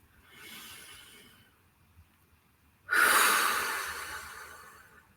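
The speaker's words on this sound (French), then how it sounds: "on inspire par le nez" Slow breaths through the nose during a guided relaxation exercise: a soft, faint breath early on, a pause, then a louder, longer airy inhale close up that gradually fades, with no voices.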